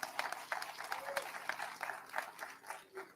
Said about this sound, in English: So let's give our board chair another round of applause.